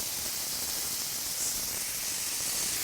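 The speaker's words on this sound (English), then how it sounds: "Oh my God, this sizzling sound and the smells in the kitchen." Paneer tikka skewers sizzle in ghee in a kitchen, a soft continuous hiss of hot fat spread evenly throughout, fairly quiet and with no talking.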